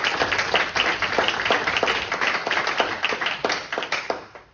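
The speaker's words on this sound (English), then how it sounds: "if we all could we give him a round of applause for his" A city council audience in Litchfield, Illinois gives a round of applause, dense close clapping from many hands sustained steadily throughout.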